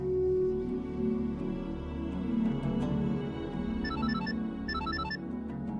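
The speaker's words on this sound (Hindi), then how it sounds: "तुम्हारा फोन बज रहा है।" A faint phone ring chirps twice near the end, nearly buried under steady music and background sound.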